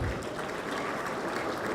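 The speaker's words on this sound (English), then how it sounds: "A round of applause for him." Applause from an audience at a governor's speech launching a Bayelsa State education trust fund, a steady dense wash of clapping throughout the short stretch with no talk over it.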